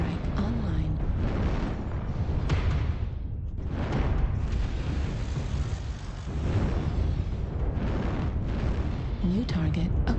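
Artillery strikes land in the mech combat game MechWarrior Online, a dense rumble of overlapping explosions and booms rolling continuously, loud and heavy, with a brief lull midway.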